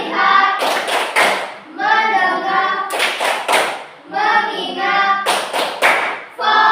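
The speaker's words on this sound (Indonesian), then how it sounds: "marilah kita tepuk fokus dulu" A classroom of pupils performs the rhythmic Indonesian 'tepuk fokus' focus clap, chanting words in unison between loud, sharp bursts of clapping that fall in short, regular groups across the passage.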